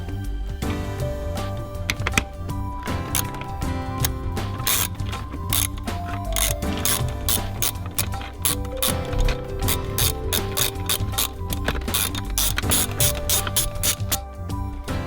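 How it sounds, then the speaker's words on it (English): A ratchet works a 10mm bolt loose from the center console of a Corvette C6, a loud, continuous run of rapid metallic clicks throughout with a faint underlying hum. "we got one 10mm bolt right under here. remove that and we should be able to pop the console out."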